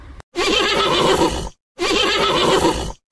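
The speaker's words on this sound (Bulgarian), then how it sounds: "Конят казва..." Two loud, close horse whinnies in a row, each about a second long with a brief silence between them, standing alone with no other sound.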